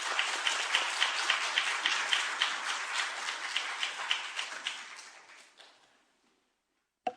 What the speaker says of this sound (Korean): 차혜경 목사님 올라오실 때는 크게 박수로 환영해 주시기 바랍니다